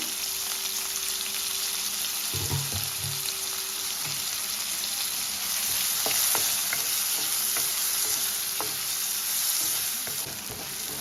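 Chopped large onion fries in a pan for palak dal, a steady close sizzle with scattered spatula scrapes and small pops throughout, no voices.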